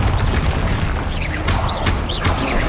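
Confringo spell blasts in Hogwarts Legacy amid dense combat noise: a continuous loud rumbling bed with several sharp cracking bursts and whistling, sweeping magical tones, close and busy.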